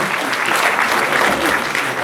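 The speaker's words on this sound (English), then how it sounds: "Please, a round of applause for yourselves also." Steady applause from a conference audience, dense and sustained clapping throughout with no pauses.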